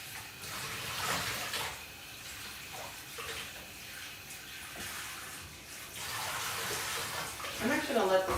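Hot tap water runs into a kitchen sink to soak dirty dishes, a steady rushing hiss that swells and splashes louder toward the end, with a voice talking faintly in places.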